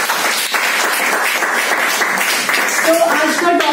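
Dense audience applause fills a motivational speech hall, continuous and loud throughout, with cheering voices rising near the end.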